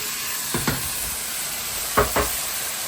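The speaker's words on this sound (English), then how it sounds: "Heat up high again and throw the meat in." Meat sizzles in a hot pan for a Guinness chilli, a steady hiss broken by two pairs of scraping stirs, close and moderately loud, with no talk.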